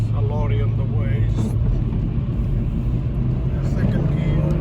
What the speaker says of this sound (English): I'm gonna just press the gas a little bit here